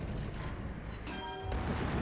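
Naval gun salvo of armor-piercing shells from the French battleship Bourgogne in World of Warships, a deep booming rumble with a ringing tonal whine, steady and fairly loud.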